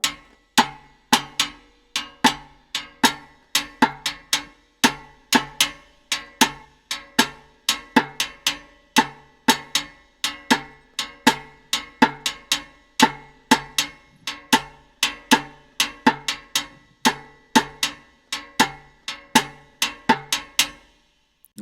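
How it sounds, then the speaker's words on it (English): Cascara pattern struck on timbale shells in a steady, syncopated stream of sharp clacks with a rim-click clave accent woven in, repeating evenly and close for a long stretch with no talking. "So you can hear how the pattern of the cascara fits perfectly with the clave."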